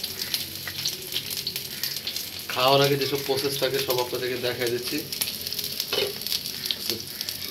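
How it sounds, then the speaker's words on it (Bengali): Onions frying in a pan in a home kitchen give a steady, close sizzle throughout while a person talks over it. "এখানে পেঁয়াজ ভেজে নিচ্ছে,"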